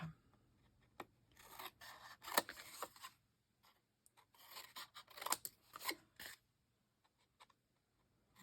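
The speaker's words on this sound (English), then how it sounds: "I cut at a diagonal to cut off a triangle" Scissors snip the corners off paper rectangles at a diagonal while a retro summer mini album is assembled, making several close, crisp bursts of cutting separated by short quiet pauses.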